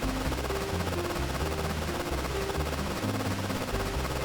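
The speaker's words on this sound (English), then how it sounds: "This is the sound of a rocket launching." A rocket launch in Factorio Space Age roars as a dense, loud, continuous rumble with rapid repeating thumping pulses, alone with no talk.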